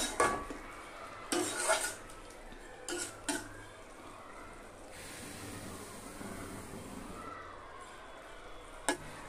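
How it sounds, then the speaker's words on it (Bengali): A metal lid lifts off a pot of prawn and banana flower curry with clinks, then a spoon stirs with scraping strokes, followed by a quiet low simmer and a final clink. "এবার ঢাকনাটাকে তুলে নেব, একটু নেড়ে চেড়ে দেব।"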